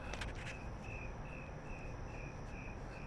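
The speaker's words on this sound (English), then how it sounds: "Can you guys hear those crickets?" Crickets chirp at night on Hennepin Avenue in downtown Minneapolis, a faint, evenly spaced high trill repeating about twice a second over low city hum, with a few brief clicks early on.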